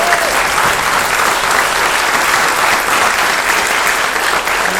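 Live studio audience at a Nashville country music show applauding a guest songwriter, a full, even round of clapping that holds steady and close for several seconds.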